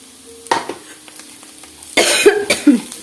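Spiny gourd coconut fry is stirred in hot oil, giving a few scraping strokes and short bursts of sizzle, and a person coughs once near the start.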